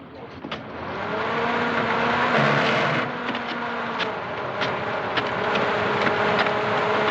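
A car engine revs hard while the car is stuck in mud, holding a loud, sustained drone that rises and then stays steady under a few sharp clicks. Voices call out over the engine noise.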